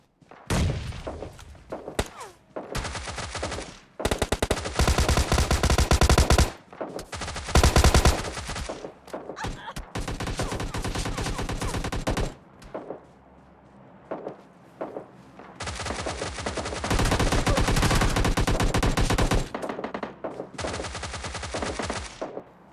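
Gunfire in a squad fight in a battle royale shooter video game, loud sustained automatic bursts broken by short pauses, close and dense, with no talking.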